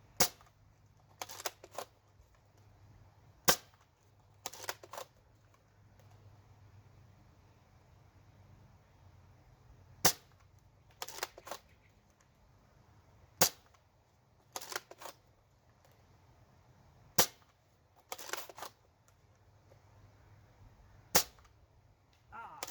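A Nerf blaster fires darts at a range in sharp, isolated pops spaced a few seconds apart. Each shot is followed by brief mechanical clatter from priming, and the background between shots is quiet.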